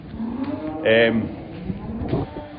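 A suckler cow gives a single loud, close moo in a cattle shed, a short low bellow in the middle of quieter barn background noise and shuffling.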